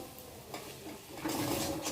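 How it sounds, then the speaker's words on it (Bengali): Maggi noodles being stirred in a pan with Kissan sauce and vinegar added, a soft scraping and sizzling that grows louder in the second half, with no talking. "এবার দিয়ে দেবো কিষান সস, দিয়ে এবার ভালো করে নেড়ে চেড়ে নেব।"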